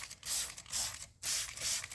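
GREZ OFF degreaser sprays in wide bursts onto a Mercedes M113 cylinder head, four close hissing blasts of about a quarter to half a second each, separated by brief pauses, with no talking.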